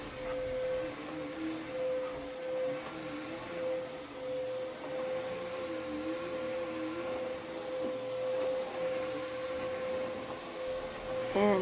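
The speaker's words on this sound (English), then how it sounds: "So right here, I'm just vacuuming." A vacuum cleaner runs continuously across a bedroom floor, giving a loud, steady motor drone with a high whine and shifting rumble as it moves, with no talking.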